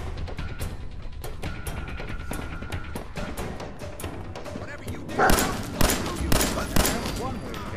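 Gunfire in Fallout 4, close sharp shots clustering into a loud burst of rapid reports near the end over game ambience, with someone talking.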